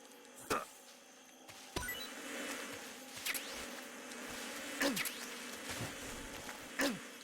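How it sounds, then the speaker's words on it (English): Bees around a beehive in Metal Gear Solid 3 buzz as several sharp, close fly-bys sweep past over a low, steady hum, with no talk. "Oh, is this a beehive?"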